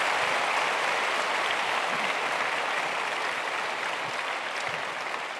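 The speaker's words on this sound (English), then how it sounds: "So another round of applause for all the musicians for coming." Sustained, full applause from a large audience at a world cultural festival in Hong Kong, thanking the visiting musicians. The broad wash of clapping holds steady throughout and fades slightly toward the end.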